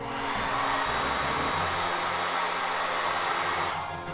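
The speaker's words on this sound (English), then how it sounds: "So I'm going to go ahead and use my hair dryer again." A hair dryer blowing warm air onto a plastic figure to soften it, a loud steady whooshing roar with a motor hum, running close and alone before cutting off at the end.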